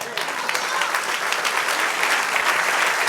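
A church congregation breaks into sustained applause during a sermon, a dense, steady wash of many hands clapping close and loud for about three seconds with no break.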